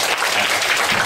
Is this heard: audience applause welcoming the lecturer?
yes